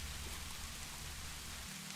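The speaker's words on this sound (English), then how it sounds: "The rain on the tin roof always puts me at ease." Steady rain patters on a tin roof, a dense, even hiss of drops with a low rumble underneath, faint and continuous with no voices.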